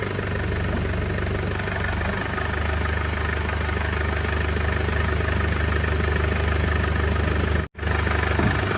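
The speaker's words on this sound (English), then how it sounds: "Little bit rev the car." A Mercedes car engine running steadily, close and loud, with a dense low rumble held throughout and a brief drop near the end.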